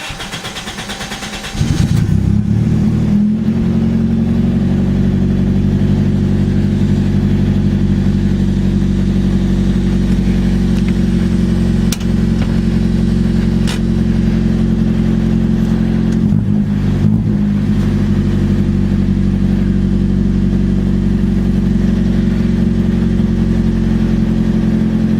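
A Toyota Corolla engine cranks and fires up, then settles into a loud, steady idle with one brief rise in revs partway through.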